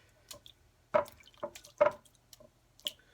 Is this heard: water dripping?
yes